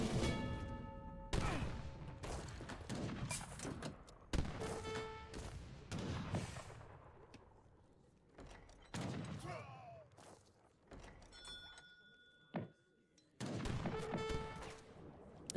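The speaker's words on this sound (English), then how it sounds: "you can see there the TC fire killing the villagers" Town center gunfire in Age of Empires III cuts down villagers, bursts of layered musket volleys and thuds arriving in repeated waves, broken by brief game chimes and quieter gaps.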